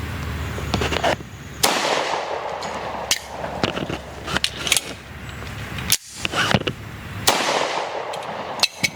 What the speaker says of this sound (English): he's gonna shoot 1 round, reload, shoot another, and reload, shoot another